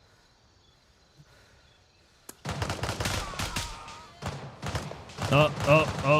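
Gunfire in the shooter video game Gray Zone Warfare: a sharp shot, then a dense stretch of rapid loud shots and bursts, with a brief voice exclamation amid the firing.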